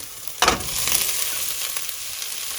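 Colourful bell peppers hit a pan of already sautéed vegetables with a sharp burst, then settle into a steady, close sizzle of frying with light stirring, and no talk.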